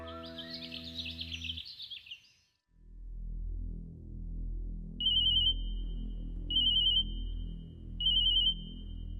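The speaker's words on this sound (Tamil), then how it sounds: "யுஏ ஏஜென்சில இருந்து கால் பண்றாங்க." A phone rings with an incoming call: a brief tonal chime, then three short, bright electronic trills repeating at even intervals over a low hum, with no talking.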